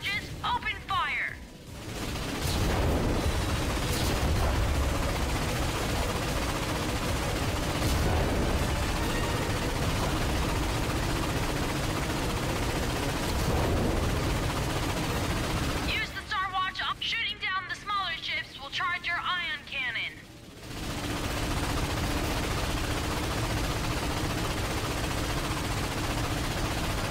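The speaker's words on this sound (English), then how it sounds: "We're gonna take down those warships one by one. When the cannon charges, open fire." Rapid gunfire and cannon blasts from a Ratchet and Clank space battle against enemy fighters and warships, a dense continuous barrage with booms, pausing briefly partway through, while voices talk over it.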